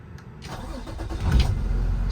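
A 2019 Kenworth T270 truck's 300-horsepower PX7 diesel engine cranks and catches, then settles into a rising, rumbling idle close by.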